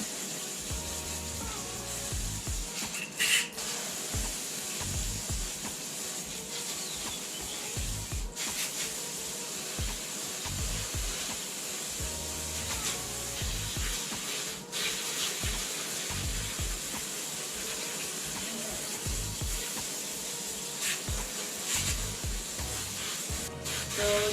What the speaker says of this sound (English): basically keep rinsing until you don't see any dirt coming out anymore